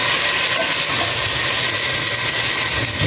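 Pork meat that was boiled earlier sizzles over a strong flame in a pan for sinigang, a dense steady hiss filling the whole stretch at close range with no talk over it.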